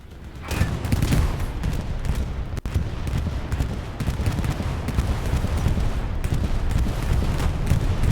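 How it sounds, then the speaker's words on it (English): A bombing run roars through a Hell Let Loose tournament match: a dense, continuous wall of explosive rumble and blasts holds loud for the whole stretch, with one sharp crack partway through. "We hear a bombing run"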